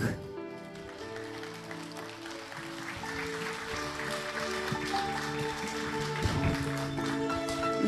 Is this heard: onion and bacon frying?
no